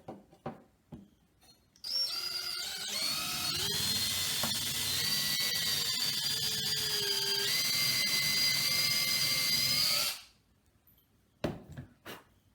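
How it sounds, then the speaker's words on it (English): Power drill boring a hole for a homemade WWI trench spike, a steady loud whine running for about eight seconds after a few clicks of handling, then stopping, with brief knocks afterward. "So now I'm going to drill the hole."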